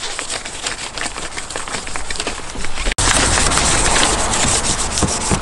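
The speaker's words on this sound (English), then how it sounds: "now we're scuffing it up with the 800 grit sandpaper" Hand sanding a Toyota MR2 car body panel with 800 grit sandpaper before painting, continuous close scratchy rubbing strokes, loud and steady with a brief break near the middle, no voices.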